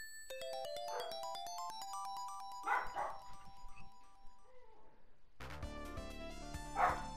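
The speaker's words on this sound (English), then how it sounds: "You can probably hear my dogs right now." Several dogs bark in a few short, separate bursts, heard over steady electronic game music playing throughout.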